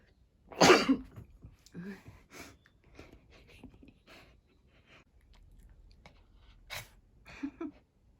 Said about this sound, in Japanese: くしゃみ出る。